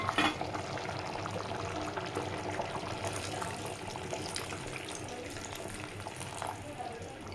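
First coconut milk is poured into a thickened Kerala-style banana payasam (nendran pazham pradhaman) mix, giving a steady close-up liquid rush with faint stirring and bubbling that runs throughout.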